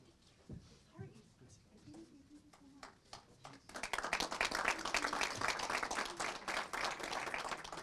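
Applause from an audience at a city council meeting swells suddenly midway and keeps going as a dense, steady patter of many hands. Before it, a few scattered claps sound over murmured talk and room noise.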